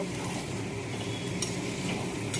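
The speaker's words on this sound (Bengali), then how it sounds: "এবার ভালো করে কষিয়ে নেব" Peas and chicken stir-fry in oil in a pan for a Bengali chicken ghugni, a continuous close sizzle with stirring scrapes and a couple of sharp utensil clinks against the pan, with no talking.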